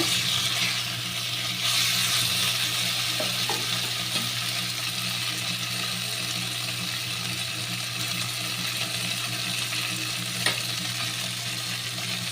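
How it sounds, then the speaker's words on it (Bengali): Lentils are poured into a hot pan of spiced winter vegetables, and a steady sizzle and bubbling hiss follows. The frying sound stays continuous and close, with a brief clatter partway through and no talking. "এবার আমি ডালটাকে ঢেলে দেবো।"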